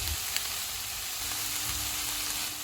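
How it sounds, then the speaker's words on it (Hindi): Vegetables for spring roll filling sizzle steadily in a hot pan, seasoned with salt, black pepper, chili sauce, soy sauce and green onion; a continuous, even frying hiss runs throughout with no talking. "इनको मिक्स करेंगे और 1 मिनट तक पकाएंगे"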